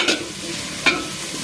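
Spices being stirred and sautéed in hot oil for a Chettinad chicken curry: a soft continuous sizzle with two brief scraping stirs near the start and end.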